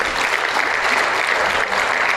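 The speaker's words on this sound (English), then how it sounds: "So let's give them a nice round of applause." A live podcast audience applauds for a band, continuous even clapping from a room full of people with no voices over it.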